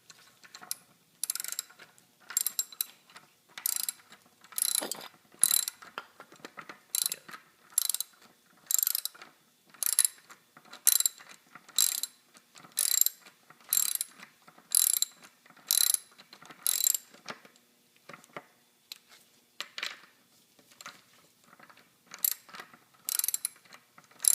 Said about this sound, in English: remove the first nut